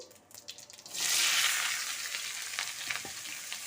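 Chopped tomato, cauliflower, capsicum, carrot and potato hit hot oil with whole cumin for samosa filling, bursting into a loud, close sizzle that settles into steady frying with scraping stir strokes.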